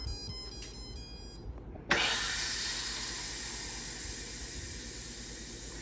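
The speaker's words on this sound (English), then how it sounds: "we're gonna press our steam release button to release the rest" Steam bursts from the release valve of a Deluxe Multi Cooker pressure cooker after a short beep, turning into a loud, steady, close hiss that holds without letup.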